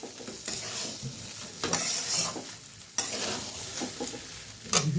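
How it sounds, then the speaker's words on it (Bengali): Egg pulao with cashews, raisins and garam masala being stirred in a pan, a spoon scraping through the rice in irregular strokes with a light sizzle and occasional metallic clinks, close and moderately loud, no talking. "তো ভালোভাবে আবার নেড়ে চেড়ে নিই।"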